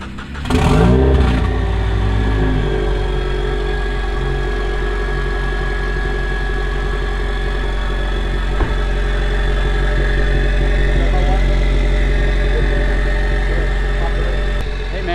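A 700 hp turbocharged Cadillac CTS-V engine gives a loud sharp rev at the start, then settles into a steady heavy idle that rumbles on close and continuous.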